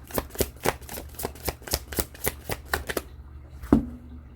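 Tarot cards are shuffled in a quick, even run of close riffling flicks for about three seconds, followed by a single card snapped down.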